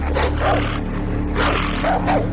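Dogs in the video game Far Cry 3 bark and growl in a few harsh, rough bursts over a steady low game background rumble.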